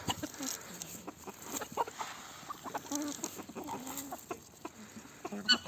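Chickens cluck and squawk in a busy flock with geese at feeding time, with scattered calls overlapping at close range.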